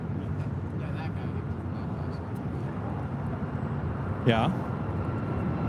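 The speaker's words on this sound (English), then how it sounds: "this is United 1374 taking off to Denver" United Airlines flight 1374 takes off from LAX bound for Denver, a continuous jet roar sustained throughout, with a brief spoken word and a short sharp sound breaking in near the end.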